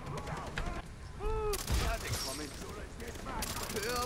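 Gunfire crackles in the co-op shooter game Far Cry 3, with rapid bursts and shots under steady excited talk from players during a mission.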